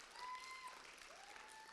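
An audience at a Concord High School poetry competition claps briefly and faintly, a soft spread of applause that fades out within a couple of seconds.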